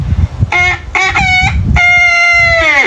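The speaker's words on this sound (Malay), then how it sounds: "bunyi ayam" A chicken gives several short clucks and then a long, drawn-out crow, loud and close, over a low background rumble.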